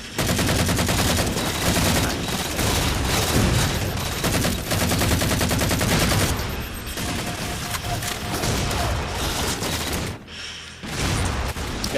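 Rapid gunfire in a Halo 4 Team Slayer match, with repeated bursts of weapon fire in quick succession, loud and dense throughout, broken by a few short pauses.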